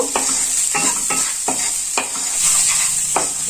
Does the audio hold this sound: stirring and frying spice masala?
yes